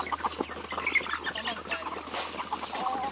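A busy flock of farm chickens clucks and chatters continuously, close and fairly loud, with some soft voices mixed in underneath.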